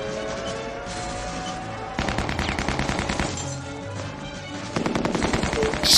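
Dense video game gunfire from a combat shooter, rapid automatic bursts that run continuously and grow louder and fuller partway through, with more shots piling on near the end.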